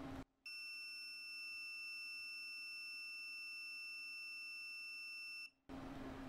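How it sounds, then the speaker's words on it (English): An Arduino alarm triggered by a reed switch sounds its buzzer, a loud steady electronic tone held for about five seconds between brief gaps, with faint room sound before and after. "it should activate the light and the buzzer for 5 seconds and then go off and reset the alarm"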